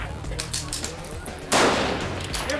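A single sharp rifle shot cracks out at about the midpoint at a vintage sniper shooting match, loud and close, with its report ringing on over outdoor background noise.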